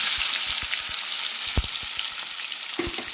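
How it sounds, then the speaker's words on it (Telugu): Tomatoes hit a pan of browned onions and curry leaves for tomato rice, giving a dense steady sizzle with scattered pops and crackles and a few stirring knocks, close and loud, with no talking. "కరేపాకు కూడా వేసుకొని బాగా ఫ్రై చేసుకున్నాం కదా ఆనియన్స్ అయితే బ్రౌన్ కలర్లోకి వస్తుంది కాబట్టి ఇప్పుడైతే టమాటాలు వేస్తుంది"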